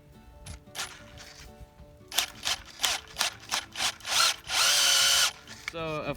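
Short bursts of a power drill boring into a maple tree for tapping, several quick pulses then one longer sustained run, close and loud, with a brief higher whine at the end as the drill dies.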